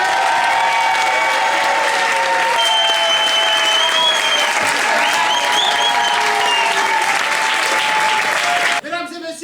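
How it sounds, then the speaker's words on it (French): A live show audience claps and cheers loudly for the evening's first performers, a thick continuous wall of applause with whistles and shouted voices mixed in, cut off sharply near the end. "est-ce que vous pouvez faire un maximum de bruit pour les premiers artistes de cette soirée"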